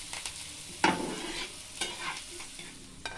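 Sabu (sago) cutlet filling fries quietly in a pan, with a faint steady sizzle broken by a few sharp spatula scrapes and stirring clicks, and no voices.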